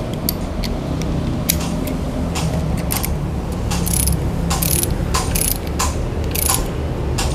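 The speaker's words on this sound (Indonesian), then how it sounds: "pengencangan baut depan itu pakai torsi dan menyilang" A wrench works on the front bolts of a Yamaha Filano scooter, tightening them in a crosswise pattern. It gives a quick run of close, crisp ratcheting clicks over a low mechanical hum, with sharper clicks bunching toward the end.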